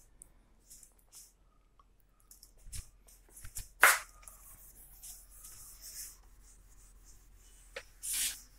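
Board being erased during a physics lecture on refraction of light: intermittent rubbing and swiping strokes, with a sharper burst near the middle and another at the end, over a quiet room.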